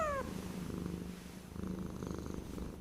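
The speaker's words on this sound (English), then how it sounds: "Here's a sleepy kitty wearing a costume." A sleepy cat in a costume, AI-generated, purrs steadily and close up, a soft low rumble that runs unbroken for a few seconds with no talking.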